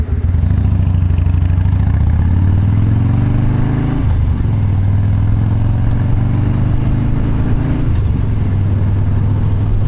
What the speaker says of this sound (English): that backfiring poppy noise when you're slowing